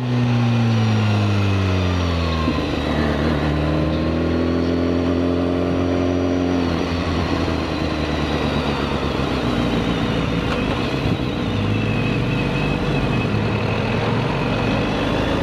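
A BMW S1000RR sport motorcycle engine revs loud and close, its pitch climbing and falling repeatedly as it runs up against the 9,000 RPM rev limiter.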